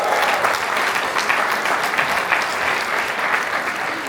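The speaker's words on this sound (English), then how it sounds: "Give them a massive round of applause!" A conference audience in Barcelona gives a sustained round of applause: dense, loud, even clapping from a large crowd that holds steady for several seconds.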